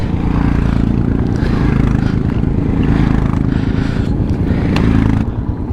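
Royal Enfield Himalayan motorcycle pulling away on a ride toward Everest Base Camp: a loud, close, steady engine rumble with continuous chugging and road clatter, easing slightly at the end.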